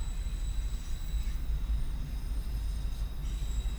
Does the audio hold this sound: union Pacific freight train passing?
yes